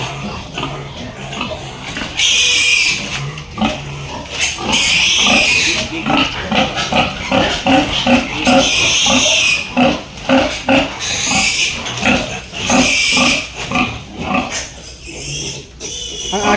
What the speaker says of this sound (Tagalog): Ang akin pala baboy nag-iingay.